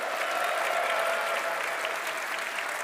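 Steady, dense applause from a large crowd at the Royal Albert Hall during a Red Bull Wololo Londinium grand finals event, a continuous wash of clapping at moderate distance with no talking.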